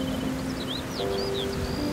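Heavy rain pours in a Hindi cartoon, a steady hiss that fills the whole stretch, with a few light chirps above it and no talking.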